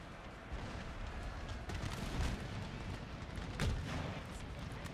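Cannon fire from an Empire: Total War battle, the guns loaded with shrapnel: distant, faint booms at irregular intervals over a constant roar of battle, with no speech.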